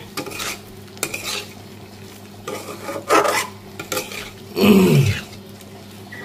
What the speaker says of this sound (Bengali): এটা দিয়ে দেওয়ার পর ভালোভাবে নাড়াচাড়া করে নেব মশলাটা দিয়ে